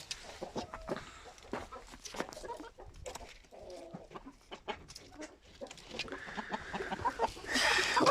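Four-month-old çapar chicks, tall young chickens, cluck and peep in short scattered calls, close and fairly faint, with more noise swelling near the end.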